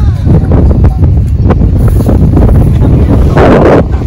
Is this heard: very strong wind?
yes